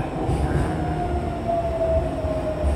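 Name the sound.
metro train interior running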